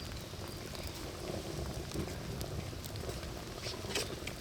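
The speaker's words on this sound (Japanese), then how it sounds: "雨降ってきてるじゃん" Light rain patters steadily outdoors beside a crackling campfire, a continuous fine spattering with small scattered ticks throughout and no voices.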